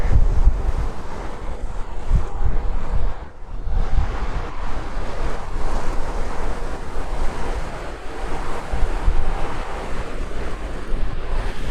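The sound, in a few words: strong wind on a coastal viewpoint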